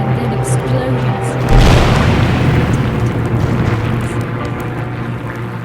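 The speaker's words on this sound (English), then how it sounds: "and then explosions" A heavy boom from planes bombing in the video game Torn Away, a single loud blast partway through with a rumbling tail, over a steady low drone and background music.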